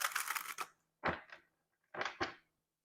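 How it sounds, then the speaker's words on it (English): A tarot deck is shuffled in short crisp bursts: a rapid riffle of card flicks, then two paired quick snaps separated by silence, close and fairly quiet. "Let me shuffle this Helen and pop deck so we can get more energy"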